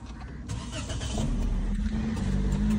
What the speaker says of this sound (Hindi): ये है गाड़ी, अंदर बैठते हैं और फिर हमारे लोगों को उठाते हैं, क्रिश को